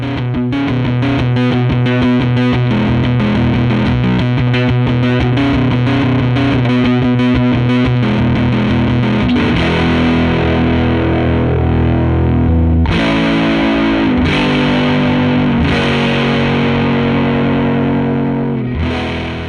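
An electric guitar runs through a Portastudio-based effects pedal, giving a loud, continuous distorted tone with sustained chords and shifting textures, and a few sharp strummed attacks near the end; no one speaks.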